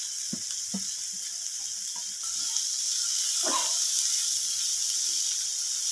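Tomatoes tipped into a hot pan of capsicum and chilli, with a steady loud hiss of sizzling that swells a little after the addition, dotted with a few soft utensil clinks.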